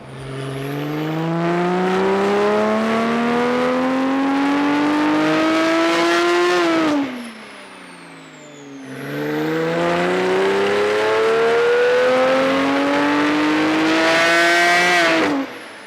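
A tuned Porsche 991.2 Turbo S engine on a dyno revs up in two long, rising pulls, climbing loudly in pitch before dropping off with a brief turbo whoosh between runs.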